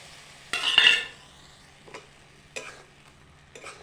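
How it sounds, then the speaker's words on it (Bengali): Tamarind being stirred into melted jaggery in a pan, a few separate scraping strokes with a louder burst of sizzling and clinking near the start, quiet between strokes. "ভালো করে নাড়াচাড়া দিয়ে নেব"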